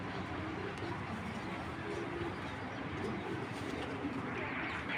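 Giribaz pigeons coo in soft, low repeated calls beneath a dense, constant wash of background noise, with faint indistinct voices mixed in.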